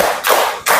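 A group of children in a classroom clapping their hands twice, two close, sharp bursts of applause-like sound with a short pause between them and no voices.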